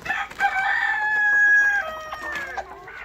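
Chickens cluck and call in a drawn-out, rising squawk, close and fairly loud, with a few shorter clucks trailing off at the end.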